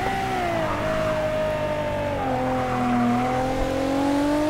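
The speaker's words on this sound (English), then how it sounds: "second gear, we spun the wheels quite a bit" Racing-game car engine revs hard through the gears with wheelspin in second, a loud continuous tone rising and falling under a driving-wheel shifter, steady throughout without talk.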